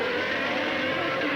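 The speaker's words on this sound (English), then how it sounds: "there you can hear again that traction control device cutting in" A red and white McLaren Formula One car from 1992 passes during a warm-up at the Adelaide street circuit, its engine note staying loud and constant. The roar fills the short stretch without a break, and no distinct stutter from the traction control cutting in can be picked out.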